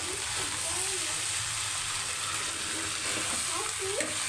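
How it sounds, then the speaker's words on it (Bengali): Carrots frying and being stirred in a pan, a continuous close sizzle with scraping stirs throughout, while a voice is heard faintly in the background. "গাজর ভাজি করছি"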